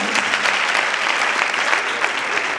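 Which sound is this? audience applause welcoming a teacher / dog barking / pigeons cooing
audience applause welcoming a teacher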